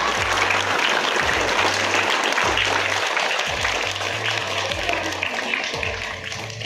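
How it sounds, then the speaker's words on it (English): A school audience at an English club activities event bursts into sustained applause, dense clapping that stays loud throughout, with a low hum running underneath. "Come on, big round of applause."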